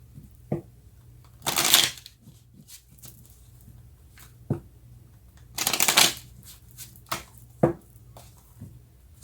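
Tarot cards shuffled by hand, two loud riffling bursts separated by soft taps and card handling, close and alone.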